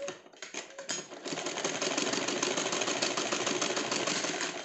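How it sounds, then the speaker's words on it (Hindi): A sewing machine stitches a cushion cover along a pinned seam, starting with a few short bursts and then running steadily and loudly at close range, a continuous rattling whir with no voices. "ये हमारा पिन लगा हुआ हिस्सा है, इसको हम सिल लेंगे।"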